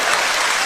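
A brief, dense burst of audience clapping from a stand-up comedy crowd, steady and fairly loud throughout.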